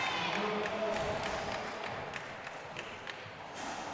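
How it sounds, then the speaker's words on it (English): A subdued crowd claps in a loose, rhythmic patter at a men's open singles racquetball match at the Pan American Championship, faint and distant under low murmuring voices. "Now the crowd is clapping"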